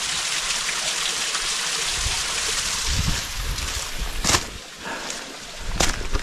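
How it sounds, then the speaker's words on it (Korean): A small mossy mountain waterfall splashes in a continuous broad rush, steady and fairly close, with a few brief knocks and rustles on top. "이끼 폭포네, 이끼 폭포."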